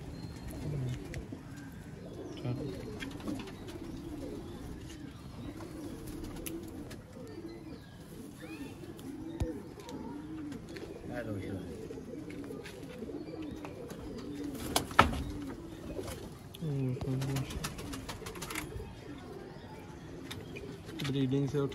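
Sialkoti pigeons coo steadily in soft, repeated rolling calls, close by, with occasional chirps and a brief clatter among them.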